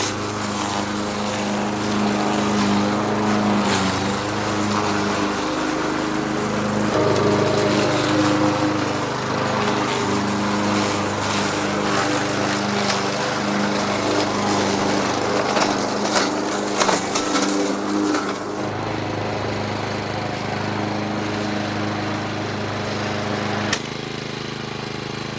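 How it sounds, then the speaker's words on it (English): A petrol lawn mower cuts grass in a garden, its engine droning steadily and loudly up close for the whole stretch with faint woody rattles over it. "My tea time mission to boldly mow where none have mown before."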